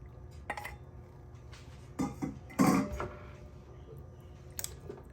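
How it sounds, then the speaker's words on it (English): Washed squid dropped into a pot of palm nut (banga) seafood soup, giving a few short clattering, wet bumps against the pot, spaced over several seconds above a low steady background hum. "So we're just gonna add the squid. This is squid already washed. Just gonna add squid to it."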